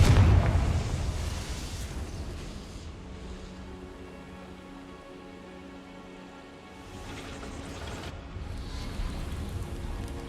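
A Confringo blasting curse from Hogwarts Legacy goes off in one loud, heavy burst at the start, then fades into a long, low rumbling tail with a second swell of noise near the end.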